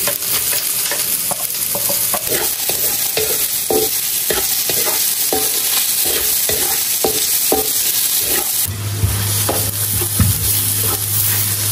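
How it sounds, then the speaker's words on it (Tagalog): Garlic and onion sauté in a pan for a water buffalo meat dinuguan, a loud continuous sizzle broken by regular scraping strokes of a stirring utensil, with no talking. "okay na po itong ginigisang bawang at sibuyas"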